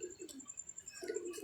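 Soft, low pigeon coos repeat in short bursts alongside faint high chirps of four-day-old pigeon chicks, quiet and somewhat distant.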